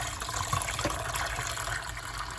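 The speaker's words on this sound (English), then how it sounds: "Oh, it's doing a pump out." A washing machine pumps out dirty water, a steady gushing flow of liquid running continuously and fairly close.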